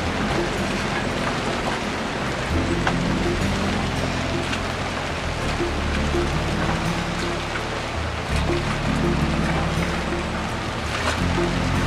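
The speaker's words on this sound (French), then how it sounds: "Pendant qu'il pleut des cordes à l'extérieur." Heavy tropical rain pours outside a boat during a Caribbean tropical wave, a steady dense hiss of drumming water with a low rumble beneath, continuous and fairly loud throughout.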